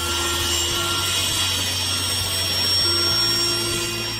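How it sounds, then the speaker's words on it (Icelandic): Table saw cutting wood for a wooden staircase build, a loud steady whining buzz of the blade through timber, continuous and close with a slight change in pitch partway through. "borðsög."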